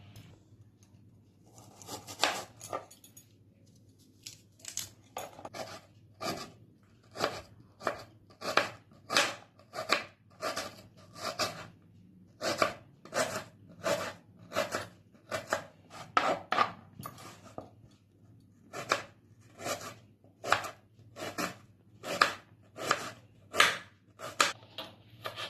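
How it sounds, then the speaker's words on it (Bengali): A knife slices through onions on a cutting board in a home kitchen, a long series of crisp rhythmic chops, quiet and close, some bunched in quick runs with short pauses between. "এরপর পেঁয়াজটাকে আমি স্লাইস করে কেটে নেব।"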